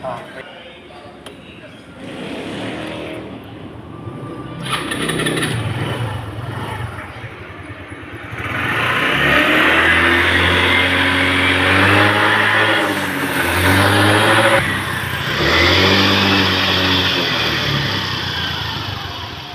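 A Rusi CVT automatic scooter engine starts and revs up, a loud, steady mid-pitched roar rising and holding near the microphone, with people talking over it throughout.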